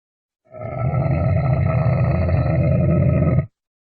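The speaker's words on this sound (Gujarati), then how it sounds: "ઊંટ ગાંગરે છે." A camel gives a deep, rough grunting bellow, one continuous throaty call of about three seconds, loud and close with no other sound around it.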